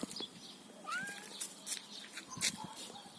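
A cat meows outdoors on a rural homestead among fallen plums and brush, a short rising call near the middle with chirpy background birds and faint ambient noise, no talk over it.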